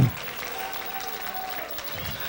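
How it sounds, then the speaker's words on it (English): Church congregation at a 1993 Sunday evening service claps along in a brief burst of rhythmic clapping, fairly loud and even, with voices mixed in. "Would you clap your hands?"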